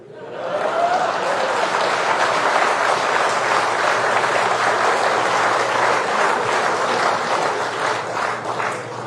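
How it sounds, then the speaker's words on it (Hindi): Audience at a political rally applauds steadily and loudly, a dense continuous wash of clapping filling the whole stretch with no break or fade. "जब मैं कहूं तब ताली बजती है"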